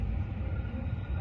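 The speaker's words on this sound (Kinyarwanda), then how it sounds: "Iyo ni gari ya moshi iragenda" A train runs between buildings at night in London, a steady low rumble filling the whole short stretch with no break.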